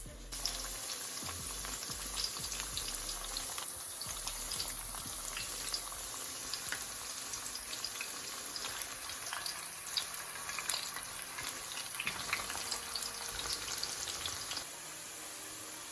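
Battered cauliflower frying in hot oil, a steady close sizzle and crackle with dense popping that continues without a break, with a few low knocks near the start and no talking.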